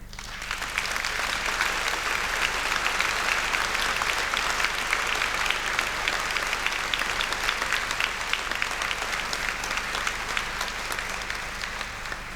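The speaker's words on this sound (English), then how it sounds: "maybe you could give your supports a round of applause as well" A large crowd at a university degree ceremony in Belfast applauds the graduates' supporters, dense and sustained clapping holding steady for several seconds before easing slightly at the end.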